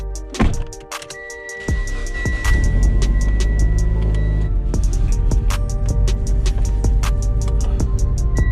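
A Mitsubishi Evo with a shifting mod starts off with a couple of thunks, then its engine and road noise build to a steady loud drone inside the cabin, with ticking and clicks throughout.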